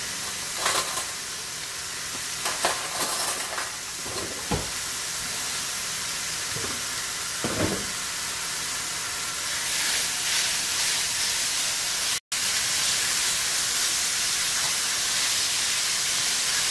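Potatoes fry in a pan over medium heat, giving a steady, close hiss and sizzle with a few brief louder spits near the start; no one speaks.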